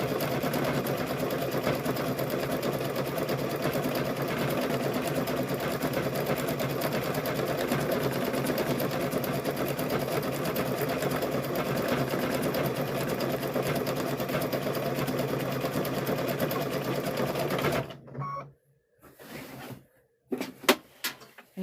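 A sewing machine stitches a pocket onto an apron in a steady, close, fast whir that runs for most of the stretch. It then stops, and a few light handling clicks and knocks follow.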